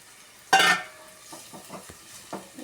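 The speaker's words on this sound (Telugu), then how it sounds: "వీటిని మంచిగా కలుపుకోవాలి ఫ్రెండ్స్" Meal maker curry with turmeric and ginger being stirred in a pan: one loud scraping stir near the start, followed by softer, intermittent spoon clinks and light scrapes against the pan, close by and alone.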